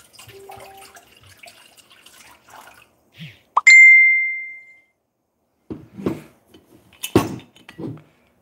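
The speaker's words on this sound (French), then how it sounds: "dans mon bol, je vais mettre d'abord mon eau, mes 250 grammes d'eau" Water poured into a mixing bowl while weighing 250 grams for gluten-free bread dough. A soft bowl clink and a bright electronic scale beep come first, followed by a few short splashy plops of water.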